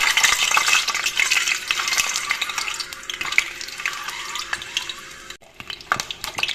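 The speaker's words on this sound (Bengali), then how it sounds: "প্ৰথমতে পনীৰকেইটা মই ফ্ৰাই কৰি লওঁ" Paneer pieces frying in hot oil in a kadai, a loud, close, crackling sizzle with stirring scrapes that gradually settles to a softer bubbling.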